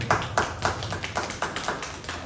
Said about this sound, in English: So just a round of applause for these guys once again.